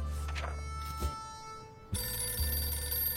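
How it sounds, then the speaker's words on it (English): A telephone rings in a video game, a bright electronic bell pattern repeating in bursts at moderate volume, with no talk over it. "Oh, the phone's ringing."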